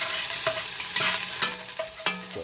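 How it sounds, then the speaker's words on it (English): Chopped spring onions fry in a hot pan with a loud, continuous sizzle, broken every half second or so by the scrape and clatter of stirring. "so that's the spring onions frying"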